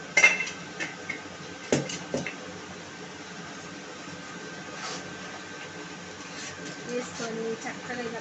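Chilli powder and spices are stirred together in a bowl, with soft scraping and light clinks of a spoon against the dish, faint and sporadic under a woman's speech.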